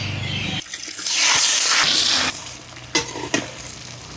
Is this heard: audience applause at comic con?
no